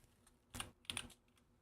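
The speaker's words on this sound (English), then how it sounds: "This is not a good typing position." Keystrokes on a computer keyboard, a few soft taps then two short bursts of rapid typing, close and quiet with no talking.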